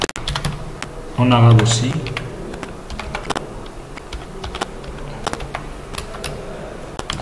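Typing on a computer keyboard while filling in an online form, a scattered series of crisp key clicks at close range, with a person talking over the first part.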